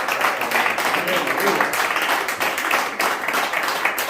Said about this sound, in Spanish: No es digno de un fuerte aplauso, Dios.